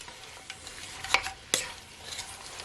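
Fish seasoning sautéing in a pan for an escovitch fish recipe gives a steady low sizzle, broken by two sharp stirring scrapes near the middle and a few softer utensil taps.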